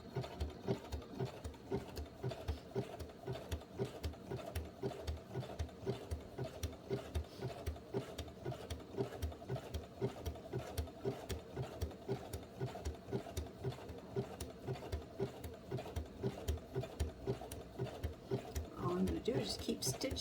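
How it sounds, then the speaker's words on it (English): A sewing machine runs slowly in a zigzag stitch, joining two ribbons with a soft, steady rhythmic patter that carries on throughout, quiet and close. "Just going really slow on the machine. And I'm using a zigzag stitch."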